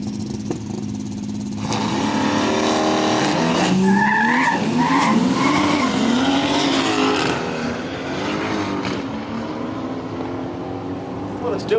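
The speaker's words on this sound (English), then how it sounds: "let's hear if the Merc does the same little launch control thing here" A Mercedes launching at a drag racing event, engine revving and rising through the run with tire squeal, steady and moderately close under a commentator's voice.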